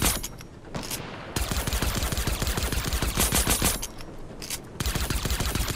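A silenced exotic weapon in Fortnite fires in rapid, sustained bursts, loud and close, with short pauses between volleys.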